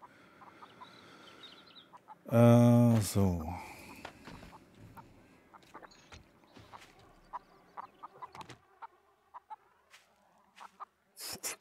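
Chickens in the video game Undead Legacy, with one loud burst of rapid clucking and squawking, then scattered soft clucks and small clicks against a quiet background while a person briefly speaks.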